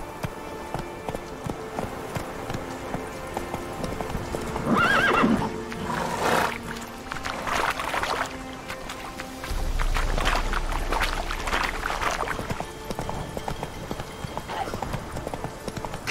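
Roach the horse clip-clops along in The Witcher 3, hooves drumming in bursts with a whinny near the middle, set against ambient game sound.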